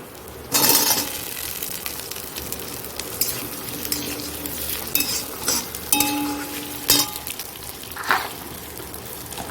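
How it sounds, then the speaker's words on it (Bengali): Potatoes tipped into a pan of browning onions, a loud close sizzle with stirring scrapes and light clinks of a utensil against the pan, continuing with bursts of crackle and no speech. "পেঁয়াজটা একটু দেখো একটু বাদাম বাদামি হচ্ছে এবার আলুগুলো দিয়ে দেবো"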